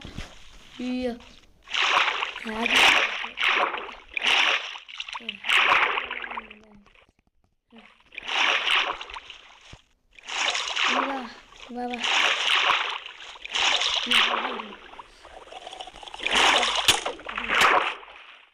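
Splashing from swimming in water in the Minecraft video game, heard as repeated bursts of sloshing and splatter with a short pause, under someone talking throughout.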